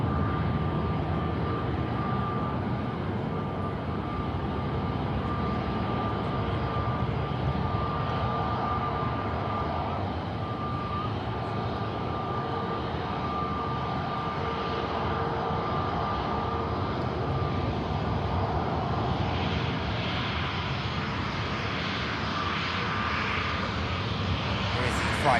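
Heavy jet airliners taxi at Manchester Airport, a broad, steady engine rumble and whine that holds constant throughout, with someone talking over it.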